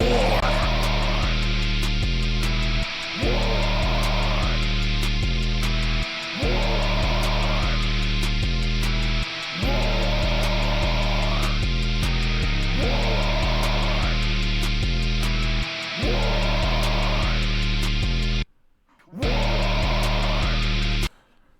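A loud, dense black metal chorus fused with rage-style rap, heavy distorted layers and raw shouted vocals repeating in short cycles, with brief gaps between phrases and a sharp dropout near the end.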